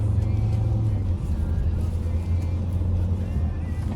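A Ford Fusion's engine runs on a test track during a drive, a steady low motor drone with a slight pitch drop partway, fairly loud and continuous.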